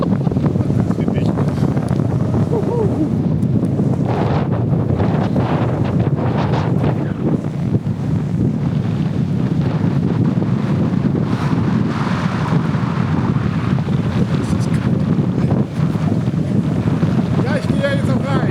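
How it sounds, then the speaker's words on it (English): Strong, constant wind buffeting the microphone in a loud roar that does not ease, with people talking under it on a road trip in Norway. "Das ist windig."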